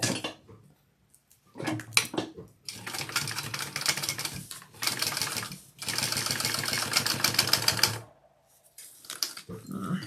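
A sewing machine stitches a backpack lining at full seam allowance, running in several loud, steady mechanical bursts of rapid needle chatter separated by short pauses, close up with no talk.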